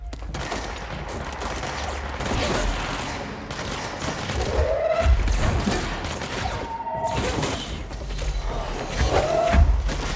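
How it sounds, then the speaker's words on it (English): Gunfire in the action game Control: dense, continuous bursts of shooting and heavy thuds fill the whole stretch, loud and close, with mechanical creaks and whines cutting through the barrage. "Who are you shooting at?"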